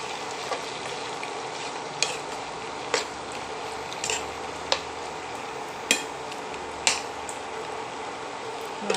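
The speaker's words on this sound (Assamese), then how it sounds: "পানী অকণমান দি অকণমান লৰাই দিম।" A pot of pork curry with added water being stirred, a close wet sizzle and bubbling broken by sharp periodic clinks of the spoon against the pot, with no talk.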